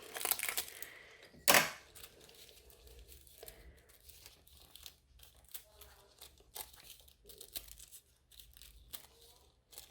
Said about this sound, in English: Fresh piece of foil.